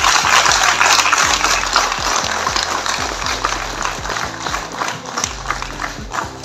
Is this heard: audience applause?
yes